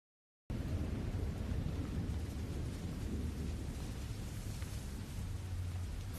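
Steady, dense light drizzle hisses without pause, with a low rumble of thunder rolling underneath throughout.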